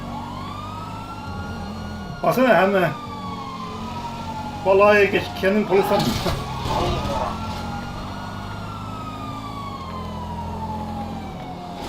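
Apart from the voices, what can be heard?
police car siren in a video game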